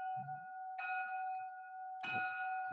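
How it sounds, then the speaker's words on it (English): A bell in a school building rings with a steady, sustained tone, swelling in two louder bursts over about three seconds at moderate distance. "there's that bell"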